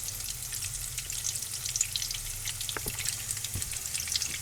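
Potato tacos fry in hot oil with a steady, close crackling sizzle that runs the whole time, broken by a few sharper pops and a faint scrape or two.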